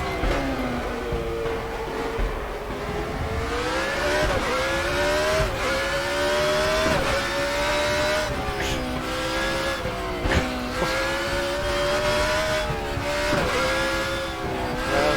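A race car on a hill climb course in the RaceRoom video game, its engine revving high and rising and falling through gear changes, with tyre noise under a continuous loud drone.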